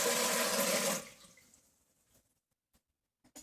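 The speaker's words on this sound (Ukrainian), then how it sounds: "Я заливаю звичайною холодною водою." Cold water pours into an autoclave in a strong rush for about a second, then trails off into a few faint drips and small knocks.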